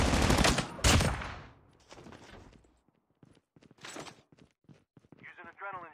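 Automatic gunfire rattles in a Call of Duty Mobile battle royale match, loud close bursts at the start fading into scattered shots, footsteps and in-game voice callouts.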